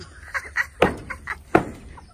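Hungry chickens cluck in a few short bursts close by, irregular and moderately loud, with quiet farmyard background and no talking.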